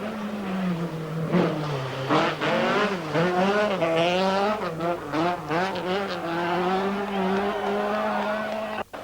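A 1983 Vauxhall rally car on the Circuit of Ireland races flat out, its engine rising and falling through gear changes with a loud, sustained rasp and rapid pitch swoops throughout.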